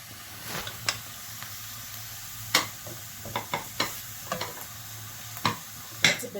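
Meat and diced onion sizzling in a clean pot for Ghanaian okro stew, a soft steady hiss broken by scattered sharp scrapes and taps of stirring, close and fairly quiet.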